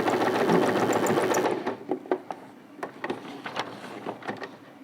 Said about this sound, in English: lower your needle, raise the presser foot, turn, and continue sewing